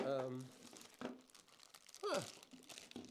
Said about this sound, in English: Ziploc resealable bag. I'm glad I tore that off so nicely.